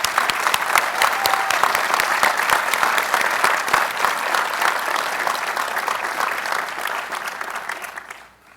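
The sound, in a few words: commencement audience applause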